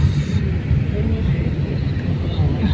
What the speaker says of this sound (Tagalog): yung galaki ng airplane guys oh